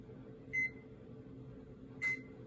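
Two short electronic beeps sound from a kitchen oven as it is set to preheat, each a clear tone standing out against a quiet room, about a second and a half apart.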